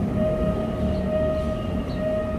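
Steady low rumble of a suburban commuter train passing near the Phaya Thai level crossing and halt in Bangkok, Thailand, with a sustained tonal hum, continuous and fairly loud throughout.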